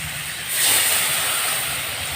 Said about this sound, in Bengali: এর মধ্যে আমি সামান্য করে জল দিয়ে দেবো